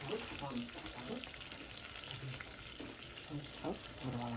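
Chopped onions sizzle and crackle in hot oil in a pan over potatoes for a pirozhki filling. The frying hiss runs steadily throughout, with occasional stirring and faint background kitchen noise.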